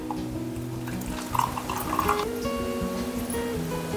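Water pours from a tap into the measuring cup of an egg boiler, making a soft, steady trickle and fill sound. Faint clinks of utensils come through, and there is no speech.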